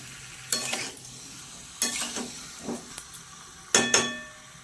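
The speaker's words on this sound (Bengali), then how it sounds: "ভালো করে কষবো মশলার সাথে আলুটাকে।" Potatoes with spices and a little sugar sauté in a pan. Four bursts of scraping and sizzling strokes stand out over quiet hissing, with light clinks between them.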